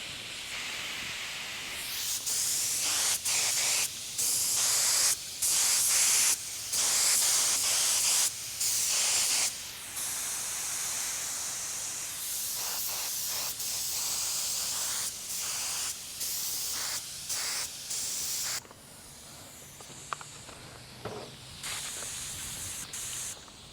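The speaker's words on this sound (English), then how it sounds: "let me throw a little lacquer thinner in it and see if it sprays" A paint spray gun sprays lacquer thinner onto a small practice box in a backyard, giving loud, close bursts of hissing spray in repeated pulls separated by short pauses.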